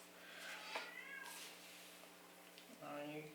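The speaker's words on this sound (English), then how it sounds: "You can hear my kitties." Pet cats meowing indoors, a couple of drawn-out meows near the start and another at the end, quiet and somewhat distant beneath soft background hum.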